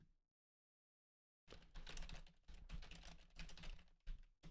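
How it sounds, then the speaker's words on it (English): Fast, continuous typing on a computer keyboard starts after a second of silence, a dense near clatter of keystrokes with brief breaks, and no talking over it. "Also typing stuff."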